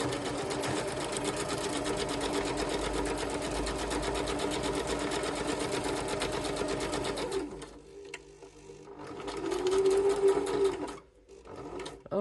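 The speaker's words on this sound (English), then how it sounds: "Haven't got to be perfect with the sewing either." A sewing machine stitches journal tags in long continuous runs, steady and close for about seven seconds, then stops and starts in shorter bursts.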